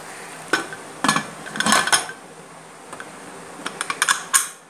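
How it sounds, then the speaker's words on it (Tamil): Metal clanks and clicks of a pressure cooker lid being set and locked in a kitchen while making coconut milk rice, several sharp knocks spread over a few seconds, close by with no talking. "இனி குக்கர் மூடிய மூடிடலாம்."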